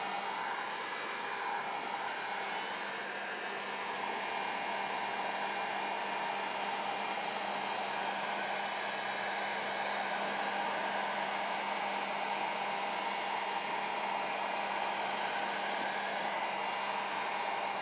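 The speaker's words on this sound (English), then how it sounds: "to speed up the process between coats is just go ahead and hit it with the heat gun" A heat gun blows continuously to dry a layer of hot glue used for dry mounting, a steady, even whooshing hiss held for the whole stretch without talking.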